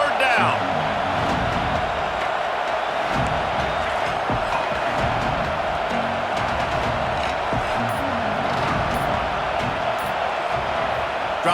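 A college football crowd at Nebraska, hosting Syracuse, roars continuously through a big third down, a broad sustained wall of cheering with a voice talking over it.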